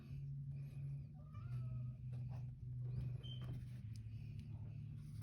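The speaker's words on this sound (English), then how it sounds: "My cat is up here." A cat calls nearby with repeated short meows and drawn-out vocal sounds over a low, steady hum.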